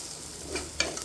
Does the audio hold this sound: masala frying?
yes